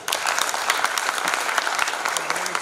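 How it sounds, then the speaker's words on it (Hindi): An audience at a Hindi poetry recital applauds loudly for guest poets, a dense, steady burst of clapping that fills the whole stretch with no voices on top. "एक बार बाहर से आए हुए अतिथि कवियों के लिए जोरदार तालियां"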